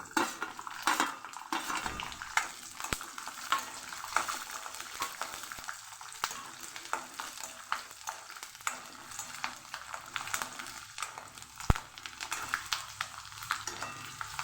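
Garlic sautéing in a pan for green chilli thecha chutney, with a steady close sizzle and frequent scraping, clinking stirs of a utensil against the pan throughout, no talking.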